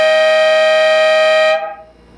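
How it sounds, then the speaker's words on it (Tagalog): An electronic basketball scoreboard's automatic air horn blares loudly and steadily for about a second and a half as the shot clock hits zero, then cuts off abruptly, leaving near silence. "Tapos automatic air horn pa siya pag 0 yung shot clock."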